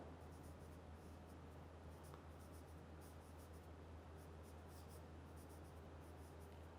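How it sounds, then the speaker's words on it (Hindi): Chalk or marker writes on a board during a Class 10 chemistry lecture, faint scratchy strokes that come in short bursts over a steady low electrical hum, with no talking. "अब मैं उस प्रोसेस का नाम लिख रहा हूं,"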